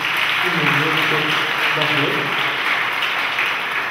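Audience applauding girls after a Polish dance performance, dense continuous clapping filling the room, loud and even throughout, with voices mixed into the crowd noise.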